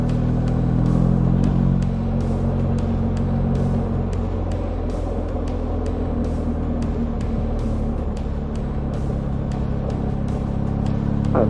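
A BMW GS motorcycle rides off-road on a mountain trail, its engine droning steadily and close throughout, with repeated sharp clicks and knocks from the rough terrain and no talk.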